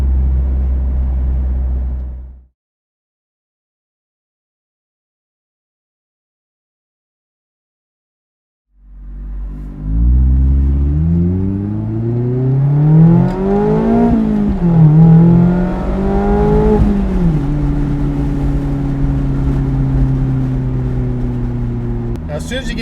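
A car fitted with a Goodwin Racing midpipe and RoadsterSport SuperStreet axle-back exhaust goes quiet for a moment, then pulls away, its exhaust note climbing and dropping through gear shifts before settling into a steady, droning cruise.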